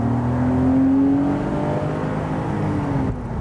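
An original 25-year-old Porsche Boxster with its 2.5-liter mid-mounted flat-six revs hard under acceleration, a loud close engine whine climbing in pitch and then easing off, with no talk over it.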